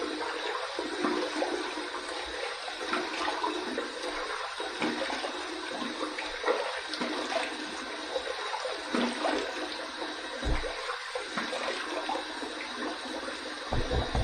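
Running water splashes and trickles steadily while someone rinses during a safety razor shave with a Muhle R41, close and continuous with brief pauses.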